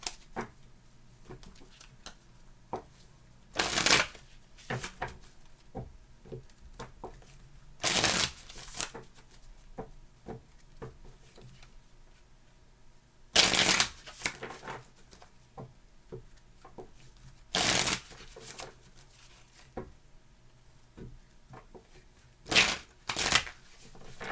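Tarot cards shuffled and laid out on a surface, quiet riffling bursts recurring every few seconds with soft taps and slides of cards in between, close and intimate.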